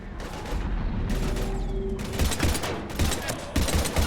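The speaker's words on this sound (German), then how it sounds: "aber wir liegen unter schwerem Beschuss" Heavy gunfire in Mass Effect 3 during a battle against Husks: dense overlapping bursts of shots and impacts, loud and continuous, with a few harder hits near the end and no clear talking.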